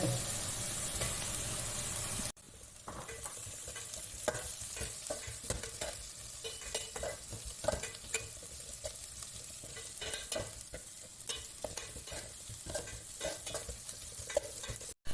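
Sliced onions and three long-cut green chilies sauté in a pan, giving a continuous close sizzle broken by frequent scraping stirs, quiet overall, with a short louder burst of sizzle at the very start and no voices.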